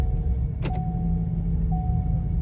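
A 2022 Ford Maverick with transmission problems drives along, its engine a low steady rumble inside the cabin with a brief click and whir as it shifts into second gear.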